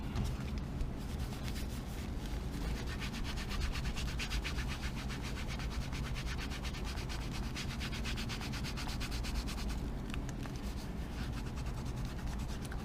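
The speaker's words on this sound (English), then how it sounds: "So for polishing, you do not want to apply too much pressure. Just gently on those smooth surfaces" A leather wallet is buffed with Meguiar's leather conditioner, giving a faint, continuous soft rubbing close by that holds at a steady low level with no speech.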